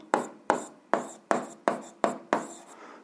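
Pen or pencil writing out an algebra solution on paper, seven firm strokes in a steady rhythm about every half second, close and distinct with no voice over them.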